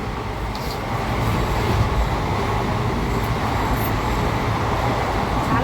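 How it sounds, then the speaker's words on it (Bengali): A passenger train leaving Malda rolls along steadily, heard from inside the carriage as a continuous loud rumble and rattle of wheels on track, with faint background chatter. "মালদা ছেড়েছে ট্রেন"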